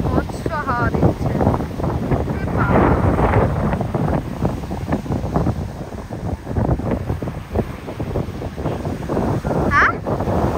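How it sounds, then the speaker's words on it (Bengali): Strong gusting wind buffets the microphone on a beach, with rolling ocean surf underneath and people talking over it. "এখানে বিভৎস হাওয়া দিচ্ছে, এখানকার ওয়েভটা দেখো জাস্ট"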